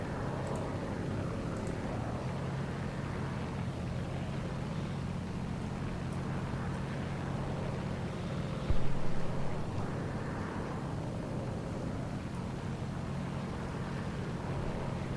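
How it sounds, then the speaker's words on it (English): A steady, droning Yak aircraft engine in the video game War Thunder hums continuously at a constant pitch, with a brief thump partway through. "And they definitely added some engine sounds."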